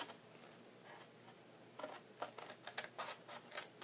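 Scissors cut scored paper for a soap gift box with a few faint, close snips and crisp rustling bursts, following a quiet lead-in.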